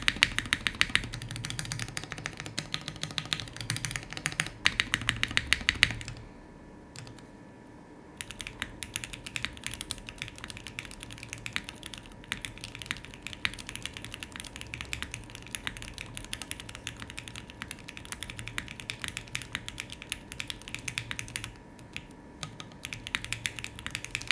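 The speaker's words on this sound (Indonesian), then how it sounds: "kalau kalian penasaran sama suaranya nih, kalian dengerin aja ya typing testnya sedikit" Mechanical keyboard with Gateron switches typed on in a steady clacking test, dense keystrokes close and loud, with a short pause before the typing resumes without speech.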